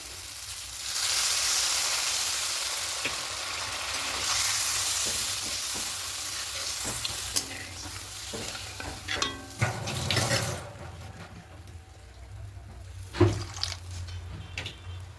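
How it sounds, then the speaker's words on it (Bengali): Spices and masala for a katla fish curry fry in oil in a pan, a soft sizzle under repeated stirring scrapes and clinks that grow more frequent and louder toward the end. "এবার খুব ভালো করে সব কিছু কষিয়ে নেব"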